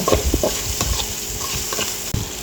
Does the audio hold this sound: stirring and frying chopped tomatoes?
yes